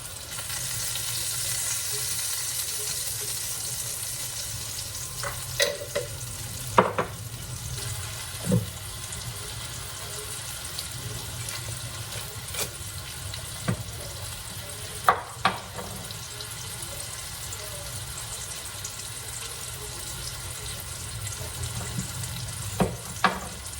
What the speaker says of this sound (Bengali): আলুর দমের আলুগুলো ভাজা হতে থাক